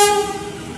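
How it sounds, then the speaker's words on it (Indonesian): A long-distance train hauled by a CC204 locomotive enters platform 6 at Jatinegara station, its horn sounding one short, loud toot that quickly fades. "masuk di jalur 6 kereta api jarak jauh"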